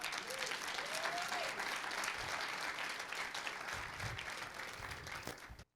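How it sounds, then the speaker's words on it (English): A seminar audience gives a dense, steady round of applause, many hands clapping together at an even level for several seconds before cutting off abruptly. "let's give these people a round of applause."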